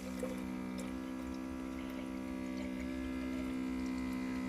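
A water pump runs steadily on its own, giving a constant low electrical hum with a faint watery wash, even and moderately quiet throughout.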